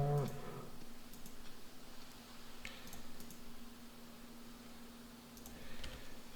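Cattle lowing in a video game, a brief low moo at the very start followed by quiet ambient game sound with a steady hum.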